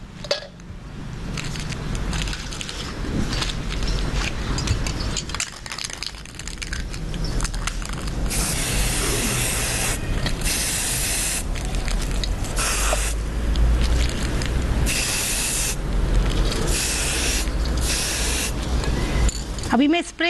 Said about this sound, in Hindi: अब ये स्प्रे पेंट मैं रेड कलर का ले रही हूँ।